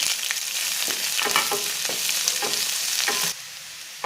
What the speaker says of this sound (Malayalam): ചേർത്ത് 1-2 മിനിറ്റ് സവാള ചേർത്ത് നന്നായിട്ട് വഴറ്റണം